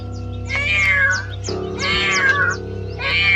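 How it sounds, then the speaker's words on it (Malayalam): A cat meows plaintively three times, drawn-out and close, over a steady low hum in the background. "ഒരു പൂച്ചയുടെ വളരെ ദയനീയമായ ഒരു കരച്ചില്"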